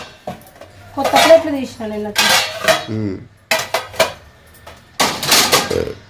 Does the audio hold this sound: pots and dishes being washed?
yes